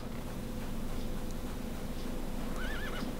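A horse in the video game CHKN gives a short, faint wavering neigh near the end, over a steady low game ambience with no voices.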